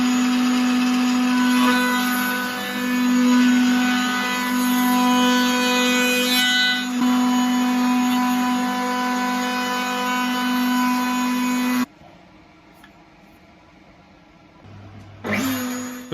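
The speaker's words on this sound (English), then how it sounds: "We'll get it over to the router table, round off the edges as well." A Triton router table in a home workshop rounds over wood edges with a roundover bit. A loud, steady motor whine runs for about twelve seconds and cuts off abruptly, then after a short quiet spell the router starts up again.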